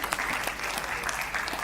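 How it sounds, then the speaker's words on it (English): An audience breaks into steady, dense applause for the guests at a festival fireside chat, a continuous wash of clapping with no pause. "let's give a big round of applause to our wonderful guests for showing up today"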